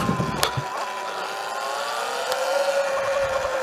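Sur Ron Chi electric motorcycle with a 72V 51Ah battery riding over mud, a steady close motor whine that climbs in pitch, with no talking.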